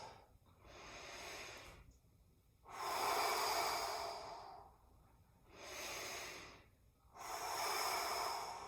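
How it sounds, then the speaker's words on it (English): Four deep, slow breaths taken during a core exercise, with long, strong breathy inhales and exhales close to the microphone in a steady rhythm. "Take a couple of deep breaths."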